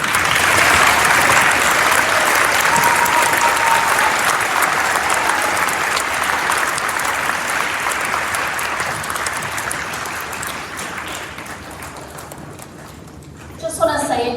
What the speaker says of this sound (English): let's please give one last round of applause for our veterans